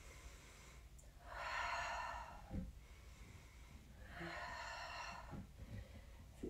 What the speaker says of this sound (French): Prends une grande inspiration jusqu'en haut et on descend.